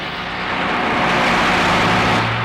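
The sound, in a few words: vehicle approaching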